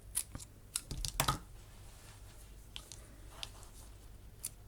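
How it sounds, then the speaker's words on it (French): Scissors snip off excess ribbon on a decorative two-lidded box, a few crisp clustered cuts near the start followed by fainter scattered clicks and rustles, close and quiet with no voices. "Je vais couper mon surplus de ruban."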